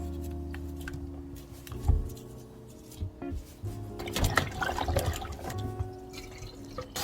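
Jujubes are rubbed and washed by hand in a bowl of water, giving soft sloshing, splashing and dripping with irregular bursts of louder agitation, close by and fairly quiet, with no speech.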